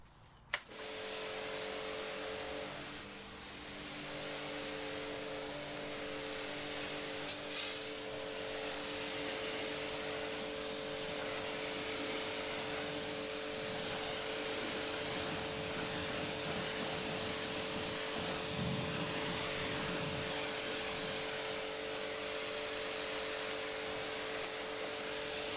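A pressure washer sprays a steady, loud hiss of water rinsing foam off a car, with a constant motor hum underneath and brief shifts as the spray moves across the panels, continuing for about twenty-five seconds.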